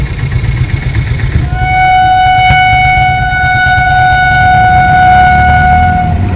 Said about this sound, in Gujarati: ખંભાળિયામાં ભૂગા બેરેજ ફાટક બંધ છે. આમ તો ખોલવાની તૈયારી છે, સામેથી ટ્રેન આવે જ છે.